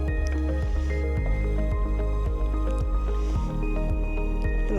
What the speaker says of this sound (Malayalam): എന്നിട്ട് നന്നായിട്ടൊന്ന് ഞാൻ മിക്സ് ചെയ്യട്ടെ